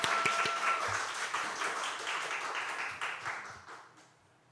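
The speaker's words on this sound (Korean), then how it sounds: "우리 박수로 환영하겠습니다." A church congregation claps during a Sunday worship service to welcome a newly registered member, a steady wash of applause from many hands that holds for several seconds and thins out toward the end.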